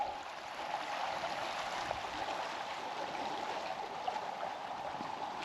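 Rushing river rapids pour past reed beds along a riverside walk in Kurashiki, Japan, a steady, full wash of water noise that continues without a break.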